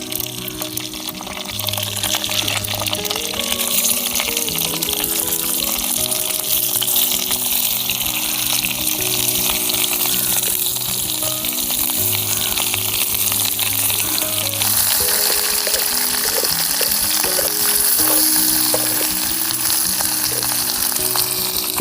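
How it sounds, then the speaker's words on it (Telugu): Eggplant pieces fry in hot oil with mustard seeds and curry leaves for a Telugu onion-masala brinjal curry, giving a steady, loud, close sizzle and crackle with no pauses. "కరివేపాకు కొంచెం వంకాయలు కొట్టగా వేసుకుందాం."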